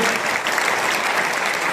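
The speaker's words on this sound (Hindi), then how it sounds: "एक बार जोरदार तालियां बजाएं" A seated audience at a Hindi-language event gives a loud, sustained round of applause, dense clapping holding steady throughout without a break.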